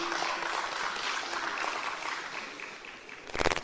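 Audience applause for President Laurent Gbagbo at a political gathering, a dense steady wash of clapping throughout with a louder burst near the end.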